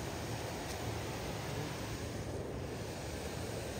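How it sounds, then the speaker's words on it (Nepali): A fast mountain stream used for fishing rushes loudly over rocks, making a constant, dense roar with no breaks and nothing else standing out. "यो त आवाज पनि डेन्जर आएको छ खोलाको"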